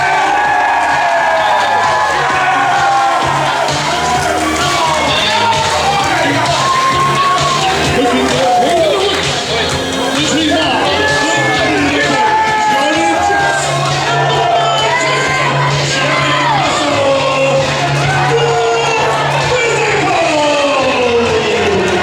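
A wrestling crowd at a tag team tournament in the Bacchus Marsh Public Hall in Australia, loud and sustained cheering, shouting and whooping throughout, with a commentator's voice running underneath.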